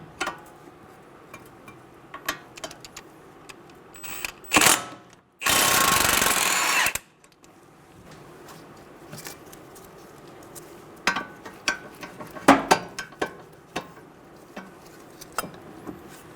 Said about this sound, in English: we're going to use a 24mm socket to remove the nut